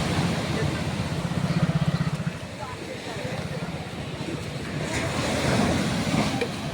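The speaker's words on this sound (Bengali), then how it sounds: "এখানে দেখো সমুদ্রের এত ঢেউ আর আওয়াজ" Sea waves roar at Digha beach, a steady broad wash of surf with wind buffeting the microphone, swelling louder toward the end with no break.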